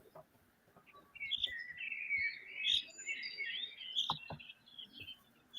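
A small bird calls outdoors in a quick, faint series of high chirping notes. A few soft clicks and taps break in now and then.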